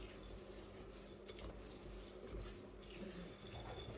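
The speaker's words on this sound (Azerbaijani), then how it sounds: "Və bunu dayanmadan qarışdırıram, dayanmadan." Chocolate dumpling mixture is stirred nonstop in a bowl, giving a steady, dense scraping and clatter of utensil against dish that runs unbroken throughout, with a faint wash of running water behind it.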